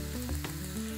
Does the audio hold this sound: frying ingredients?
yes